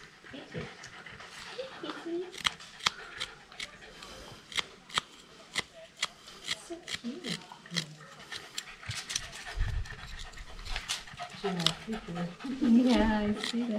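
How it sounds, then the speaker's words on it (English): A dog pants close by in a jungle national park in Thailand, rapid breaths mixed with clicks and scraping from wood carving, while people talk softly nearby. "you can hear the panting of the dog."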